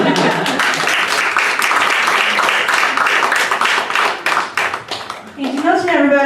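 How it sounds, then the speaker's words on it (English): A small comedy club crowd at a stand-up graduation show claps for several seconds, brisk and fairly close, tapering off before a voice starts speaking at the very end. "you can clap"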